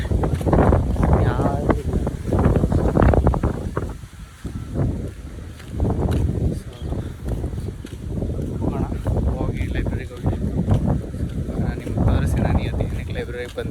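Gusty wind buffets the microphone outdoors near a library, rumbling in uneven bursts that rise and fall under someone talking throughout.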